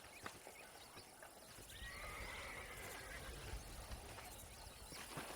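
A horse in the Western video game Red Dead Redemption gives a faint drawn-out whinny over soft game ambience, with scattered hoof clops and a low rumble beneath.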